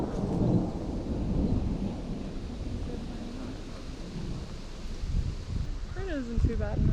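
Rain falls steadily with low rumbling and wind noise at a horse stable in Meeker Park, Colorado, and a voice speaks near the end.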